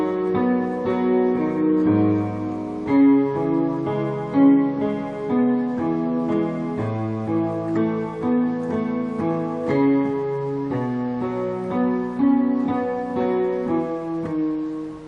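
A piano plays the left-hand part of a song in an easy tutorial arrangement, steady repeated bass notes and chords moving in a regular rhythm, close and clear with no talking for about fifteen seconds.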